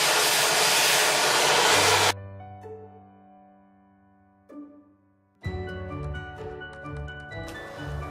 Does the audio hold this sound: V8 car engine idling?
no